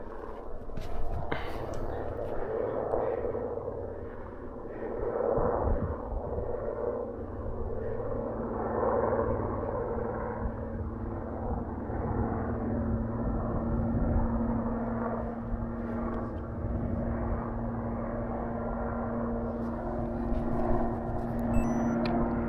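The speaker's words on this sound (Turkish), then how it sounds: "Evet askeri helikopter aşağıdan geçiyor." A military helicopter passes below the listener's elevated vantage point over the Konya countryside, a steady, moderately loud droning hum that persists throughout while people talk over it.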